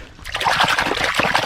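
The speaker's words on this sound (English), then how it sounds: "Here's a little stream here. I'm going to clean it up in some water." A metal crotal bell is rinsed in a small stream in the woods, with continuous close trickling and splashing water for a moment, no speech.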